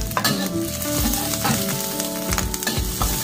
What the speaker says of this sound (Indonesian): Ebi dan daun bawangnya kita tumis dulu ya, supaya aromanya keluar ya.